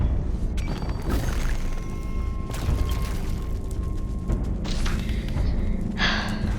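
Several deep booms and heavy thuds of TNT explosions in Minecraft Dungeons, in quick succession, loud and close, with crackling debris noise between them.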